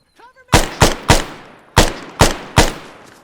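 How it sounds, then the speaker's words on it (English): Six loud, sharp rifle shots in ArmA 3, unevenly spaced over about three seconds, each with a short decaying tail, preceded by a brief faint voice. "I'm going to try to take some shots at them."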